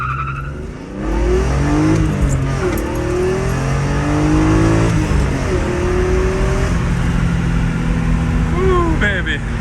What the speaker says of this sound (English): Gotta love that inline six. S54 for the win